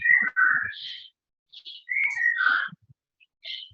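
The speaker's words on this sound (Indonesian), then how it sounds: "Ada suara burung." A bird gives a series of clear whistled calls, bright rising and falling notes in short bursts separated by brief pauses, close and fairly loud with no other sound around them.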